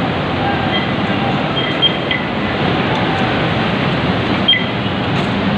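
A steady, loud rumbling roar of a moving train fills the scene, with faint squeals and clanks over the continuous noise.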